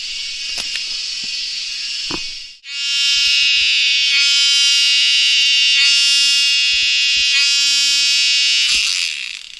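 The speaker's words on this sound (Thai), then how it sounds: "แมงจักจาน" Cicadas buzz loudly and continuously in a forest, a dense shrill drone that briefly dips and then swells again, with faint knocks and rustles beneath it.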